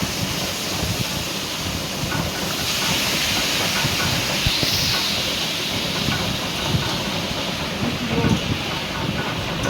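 Vegetables sizzle and crackle in hot oil with dried red chilli and five-spice seeds, a continuous dense frying hiss with faint clatter, steady and close throughout.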